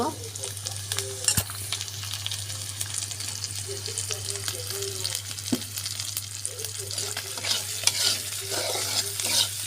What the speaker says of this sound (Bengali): পেঁয়াজের সাথে ভাজা ভাজা করে নেব।